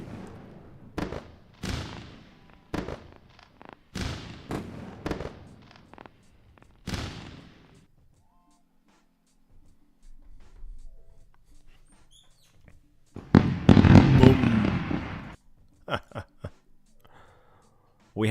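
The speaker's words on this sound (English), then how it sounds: "We're running the fireworks." Fireworks sound effect during a live day-trading stream on NQ futures: a series of sharp, loud pops and bangs, then a quiet stretch and a denser, crackling burst of explosions with scattered cracks trailing off.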